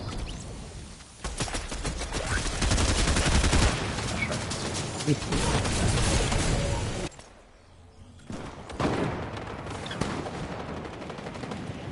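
Rapid pistol gunfire in the video game Fortnite, dense overlapping volleys of loud shots that run for several seconds, break off into a brief lull, then resume in scattered bursts.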